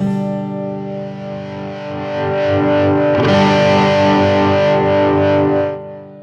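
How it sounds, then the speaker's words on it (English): Heavily distorted electric guitar chords from a Line 6 Helix with a Variax swell in midway over an acoustic tone, growing louder and thicker, then cut off abruptly near the end. "so the distortion is fading in over the top"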